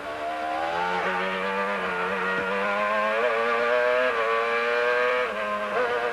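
A Formula One car accelerates hard, its high engine whine climbing in pitch through several gear changes, loud and steady with no voices.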